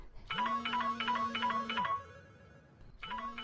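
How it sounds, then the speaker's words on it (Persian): A phone rings with a repeating electronic ringtone, sounding a run of rapid chirping pulses, pausing briefly, then starting again, clear and close. "صدای تلفنه"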